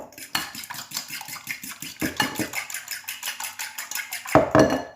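Three eggs beaten briskly in a bowl for an apple and almond tart, a fast rhythmic clatter of whisk or fork against the bowl, close and fairly loud, with a few brief pauses.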